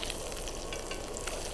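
River fish sizzling in butter in a smoking pan just after being flipped, a loud, dense crackle and spatter close by for a brief moment, with no talking.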